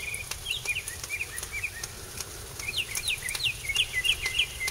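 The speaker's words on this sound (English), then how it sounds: "Birds are chirping." Small birds chirp and tweet repeatedly outdoors on a rainy, mild day, with bright scattered calls coming in bursts over a steady hiss of rain and low background rumble.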